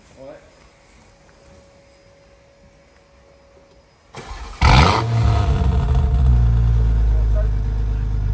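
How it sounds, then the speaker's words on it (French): Car engine with an aftermarket exhaust cranks and fires up, then settles into a loud, rumbling idle with revs close by. Someone talks over the quiet stretch before the start. "Tu peux démarrer mon Hugo qu'on entende le son, frérot?"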